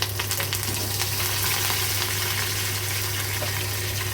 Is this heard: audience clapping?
no